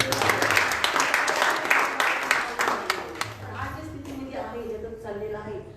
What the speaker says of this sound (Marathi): त्याला जोरात टाळ्या वाजवा